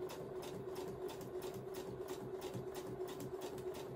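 Sewing machine stitching around a sharp corner on a small camper trailer project, a fast steady mechanical whir with a constant hum and rapid needle ticking, running evenly and close.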